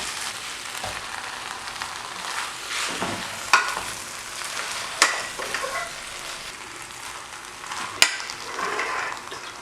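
Cooked dried cassava being mixed with beef in a pan, a soft continuous sizzle with scraping stir strokes and a few sharp clicks of a utensil against the pan, close and fairly quiet, no voices.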